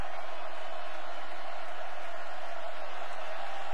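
Broad, steady roar of a large Alabama crowd at the 2011 college football national championship against LSU, a continuous wash of cheering noise with no distinct claps or voices standing out.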